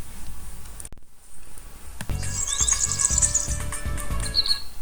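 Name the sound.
birds chirping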